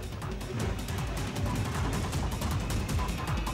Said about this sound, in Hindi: एलजेपी के पशुपतिनाथ पारस के बिहार में मंत्री बनने पर पटाखे फोड़े गए